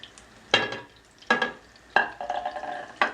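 Turkish zucchini fritters cook in hot oil in a pan, with a soft sizzle broken by several sharp, close utensil scrapes and turns at uneven intervals.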